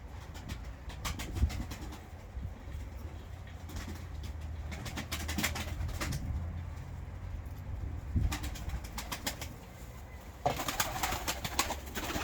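Pigeons cooing softly amid bursts of wing flapping and rustling, with a steady low rumble of outdoor background noise throughout.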